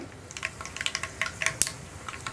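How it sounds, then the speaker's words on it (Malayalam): Mustard seeds pop and crackle in hot oil while cabbage pickle is being prepared, giving quick, scattered sharp snaps close by, with no talking. "ഇപ്പോൾ നമ്മുടെ കടുക് പൊട്ടി കഴിയാറായിരിക്കുന്നുണ്ട്."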